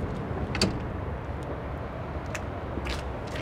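Powered rear door of a 2017 Mercedes V-Class AMG Design opening after the key button is pressed and held: a faint motor whir with a few soft clicks beneath steady background noise.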